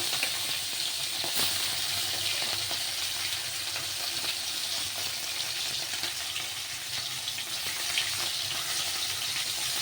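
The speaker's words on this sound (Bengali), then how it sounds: "এগুলোকে এবারে এরকম উল্টে পাল্টে ভেজে নেবে" Small puti fish, salted and rubbed with turmeric, frying in hot mustard oil in a kadai: a loud, dense, unbroken sizzle with faint pops and spatters throughout, heard alone with no speech.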